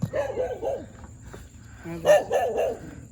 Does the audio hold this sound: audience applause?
no